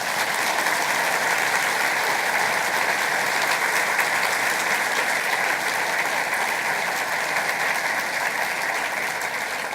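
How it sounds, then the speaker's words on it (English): Steady, sustained audience applause at a community gathering after thanks to a guest, dense and even throughout with no clear talk on top. "let's give Spencer a big hand, bit of applause"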